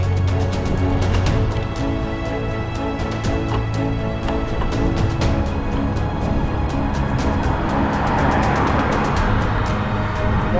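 A car overtakes a group of road cyclists from behind, its engine and tyre noise rising and passing steadily under constant wind rush.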